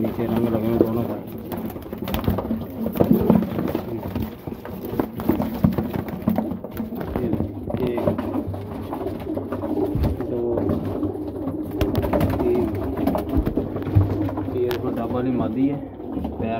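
High-flyer hill pigeons coo steadily at a pigeon sale amid a busy, noisy background, with people talking nearby throughout.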